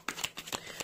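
Tarot cards are handled and shuffled, producing a few quick, crisp papery flicks in close succession, soft and near with no talking.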